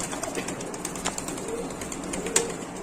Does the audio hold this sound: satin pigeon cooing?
yes